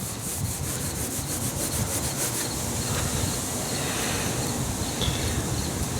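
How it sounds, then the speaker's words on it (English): Metal polish being rubbed hard onto a foggy car headlight with a cloth, a close, steady, scratchy swishing in fast repeated strokes, continuous and without talk. "Rub it on. Good rub. Hard rub."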